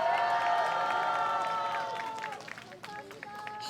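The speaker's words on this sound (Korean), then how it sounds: "다시 한번 장정현 박사님한테 큰 박수 부탁드리겠습니다." A crowd at a new political party launch event claps and cheers loudly at first. The applause fades over a few seconds into scattered claps and background noise.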